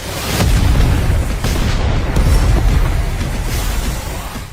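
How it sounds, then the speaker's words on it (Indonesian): A sustained, loud, rumbling blast roars continuously from an animated Chinese donghua scene in which a character blows himself up, with a dense, booming low end. "ketika Ling Lantian meledakkan dirinya sendiri"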